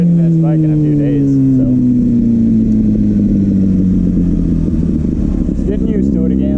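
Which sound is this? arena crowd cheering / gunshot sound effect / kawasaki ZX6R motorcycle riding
kawasaki ZX6R motorcycle riding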